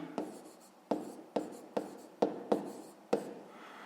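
A pen scratches out a math exercise on paper in seven short, evenly spaced strokes, close and clear in a quiet room with no talking.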